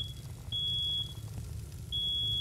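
A smoke alarm in a fire and hazmat response video game gives long, piercing electronic beeps, two of them heard over a low rumbling background with no talking.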